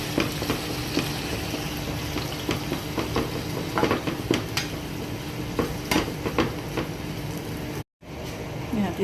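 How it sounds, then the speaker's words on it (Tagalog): Food sautés in a hot pan for a Filipino home-cooked dish, giving a continuous loud sizzle with scattered stirring scrapes and clinks and a brief dropout near the end. "Gigisa na natin yan, guys."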